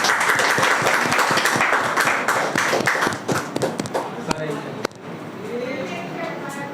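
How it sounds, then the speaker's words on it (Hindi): Crowd at a student felicitation ceremony clapping, a dense burst of applause that thins and fades after a few seconds, followed by someone speaking. "एक बार और क्लैपिंग अयांशु राव के लिए"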